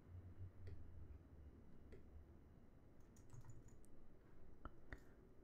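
Keys on a computer keyboard are tapped sparsely and quietly while a web contact form is filled out, with a few isolated clicks spaced apart over a faint room hum.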